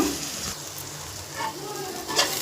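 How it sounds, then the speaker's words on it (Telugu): Onions frying in a pan for potato bonda batter, a steady broadband sizzle running throughout at moderate level, with a few brief stirring scrapes and clinks rising over it. "ఉల్లిపాయలు ఫ్రై అయిపోయాయి"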